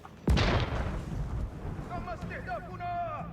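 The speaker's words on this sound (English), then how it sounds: "We have a cannon!" Cannon fires in a joust video game match, one loud close boom at the start that rolls off into a long rumble, with a voice talking over the tail.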